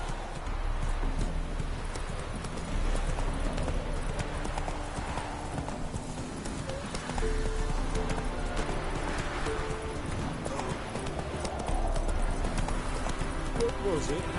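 Roach, a horse in a video game, gallops with a brisk, continuous clip-clop of hooves, close and fairly loud, over a faint ambient game soundscape with no pauses.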